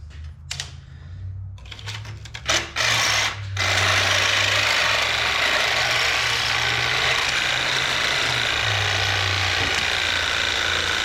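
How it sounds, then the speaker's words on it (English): A power tool blade cuts through a motor to free it for removal from a Nordic. A few light clicks and knocks come first, then a loud, steady grinding whine with a low droning hum takes over and runs to the end. "So what we're gonna do is we're gonna cut it off."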